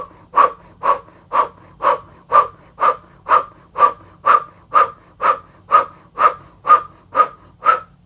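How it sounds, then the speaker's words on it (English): Rapid rhythmic breath-of-fire breathing through an O-shaped mouth in a Kundalini yoga practice, about sixteen evenly spaced, forceful close-up breaths at a steady pace with nothing else heard. "doing a breath of fire through the O-shaped mouth"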